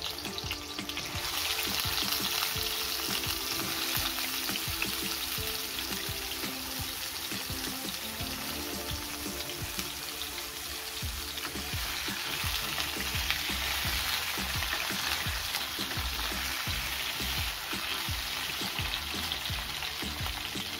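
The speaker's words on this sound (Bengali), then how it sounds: "এবারে কিন্তু সময় নিয়ে খুব ভালো করে পটলগুলোকে ভেজে নিতে হবে" Pointed gourd (potol) pieces fry in medium-hot oil, a steady loud hissing sizzle that runs unbroken for about twenty seconds with faint stirring and no speech.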